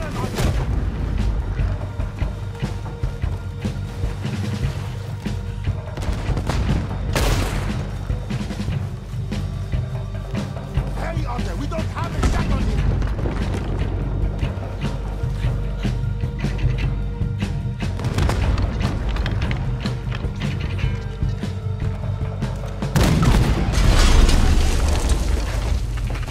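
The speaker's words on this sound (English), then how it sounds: "Use the cannon on them!" Ship cannons in Red Dead Redemption 2 fire several heavy, booming blasts spread across a loud battle scene, with rumbling effects and voices talking between the shots.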